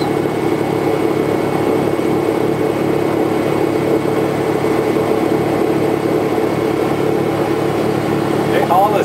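Goodyear blimp with two 210-horsepower engines droning steadily in flight, a constant loud propeller-engine hum filling the cabin from start to finish, with voices faintly present.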